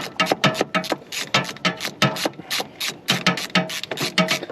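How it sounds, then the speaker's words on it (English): Ratcheting clicks from a wrench tightening a bolt on a Brockway 358 engine during valve adjustment, a quick, steady run of close, loud clicks with short pauses between strokes. "tighten that bolt up"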